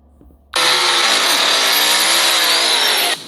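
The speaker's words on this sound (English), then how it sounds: "when he's in the bathtub and they start the chainsaw" A chainsaw roars to life abruptly and runs at a loud, steady high-revving whine for nearly three seconds before cutting off, in the bathtub scene from Scarface.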